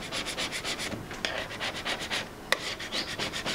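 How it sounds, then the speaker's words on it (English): Sticky adhesive residue scraped off a surface in quick, rhythmic rubbing strokes, close and fairly quiet, about a dozen passes with a sharp tap partway through. "And then what's left of the residue just scrapes up quite well."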